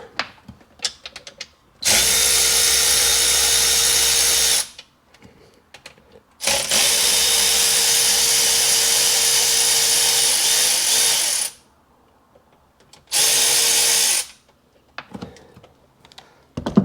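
A wrench or power driver runs in long continuous bursts, loud and close, while 10 mm bolts are backed out of a Seadoo 787 engine during a no-start repair. The bursts are separated by short quiet gaps.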